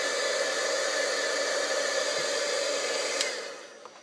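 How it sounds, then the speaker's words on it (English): Craft heat tool blowing hot air over wrinkled, distressed paper on a mixed-media Easter tag, a steady close whooshing roar that fades out near the end. "So I'm going to hit it with the heat tool and get it dry."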